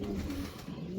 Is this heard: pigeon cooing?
yes